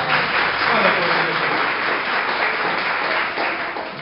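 Church congregation applauding together in a worship service, a steady broad wash of clapping that holds at an even, fairly loud level for the whole stretch with no pauses.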